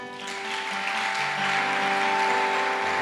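A church congregation claps together in acclaim of the Lord during a sermon, the applause a steady, dense patter that holds for the whole stretch, with sustained musical tones beneath.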